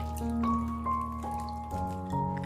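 Water runs and drips close by while white beech mushrooms are rinsed in salted water in a bowl, a steady trickle with no talking.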